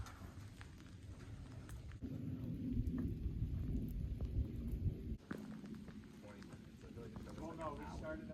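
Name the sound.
rain falling during winter hike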